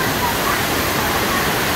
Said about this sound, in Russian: Я хотел снимать уже водопады.